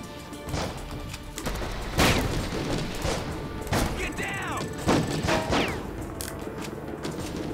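Gunfire and booming explosions fill a military shooter video game set in Afghanistan, with sharp shots and heavy thuds scattered irregularly across the scene and radio-style voices heard alongside.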